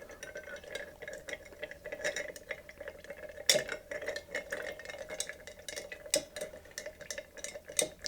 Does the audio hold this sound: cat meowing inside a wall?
no